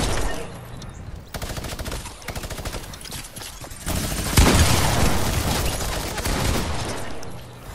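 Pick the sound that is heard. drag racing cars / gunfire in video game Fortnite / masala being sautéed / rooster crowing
gunfire in video game Fortnite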